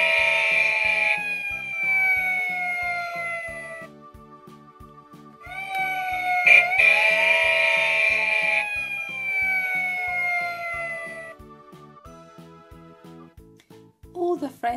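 Peppa Pig toy fire engine siren wails in bright, wavering electronic tones over a steady toy-like beat, cutting out and restarting twice, with a short jingle at the end.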